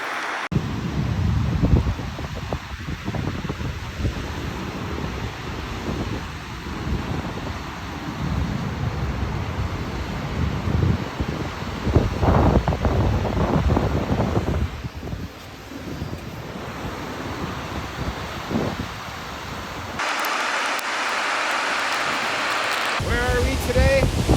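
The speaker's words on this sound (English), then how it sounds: "Check out this gorgeous waterfall." Dynjandi waterfall in Iceland roars steadily, with heavy wind buffeting the microphone and people talking nearby. The sound changes near the end.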